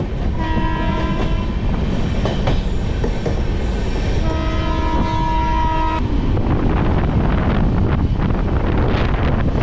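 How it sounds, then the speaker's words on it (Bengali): The 12822 Dhauli Superfast Express from Puri to Howrah runs at speed near Khurda Road Junction. A loud, continuous rumble of wheels on rails carries wind buffeting on the microphone, and two sustained horn blasts sound from the locomotive. "ট্রেন মোটামুটি ভালোই চলছে।"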